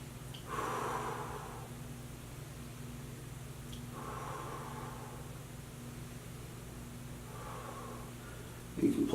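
Slow, deep breaths during a figure-four yoga stretch, three soft airy exhales spaced a few seconds apart over a quiet background hum, with a brief rustle at the end.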